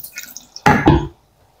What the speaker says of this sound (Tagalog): Hugasan ko tong kawali kasi nga may gumamit sa kawali namin